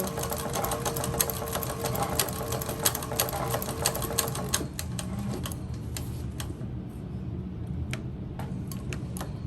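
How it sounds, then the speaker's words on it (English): A TechSew 4800 Pro sewing machine stitching back over a seam, a fast, steady mechanical ticking and whirring that runs close and continuous, then slows into sparser clicks toward the end, with no talking. "So I'm just gonna really quick sew back over that."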